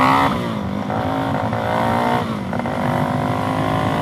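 A Suzuki DRZ400SM single-cylinder motorcycle fitted with a knock-off FCR 39 carburetor idles high and revs up and down in a continuous loud, throaty drone with a few throttle blips, close by.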